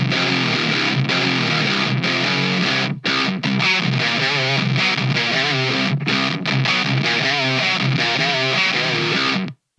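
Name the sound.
distorted electric guitar with high-end EQ boost after amplifier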